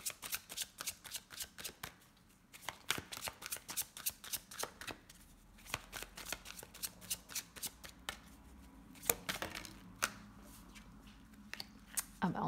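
Small Lenormand oracle cards being cut and shuffled close by, a rapid series of crisp flicking snaps in bursts with short pauses, quiet and alone without talk.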